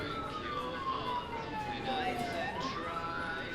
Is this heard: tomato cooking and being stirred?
no